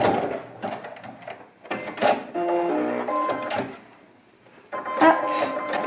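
A sewing machine stitches the final zigzag seam on a children's pleated fabric mask, running in short bursts of whirring mechanical hum with pauses between and some clunks.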